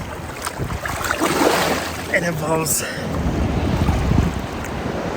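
Out on a boat at sea, strong wind buffets the microphone over the rush and slap of big waves, a continuous rough roar with surges, while someone speaks briefly.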